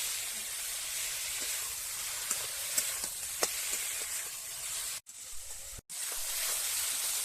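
Ginger and garlic paste fries in a pan for an egg curry, giving a close, continuous sizzle with faint crackles. The sound cuts out twice in short gaps, then resumes.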